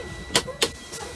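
Two sharp pneumatic pops from the tractor and trailer air brake protection valves on a truck, closely spaced and fairly loud, followed by a softer hiss-like burst.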